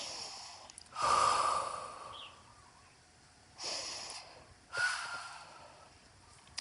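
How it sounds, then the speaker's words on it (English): Slow, audible breaths during a mat Pilates exercise: a long inhale followed by two shorter, heavier exhales, close and quiet with no talking. "And you breathe."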